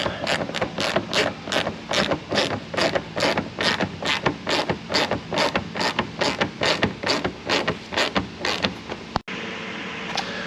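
A ratchet tightens bolts on a Toyota 4Runner during a fit of 285 tires, giving a steady run of rapid, evenly spaced mechanical clicks for about nine seconds before stopping abruptly.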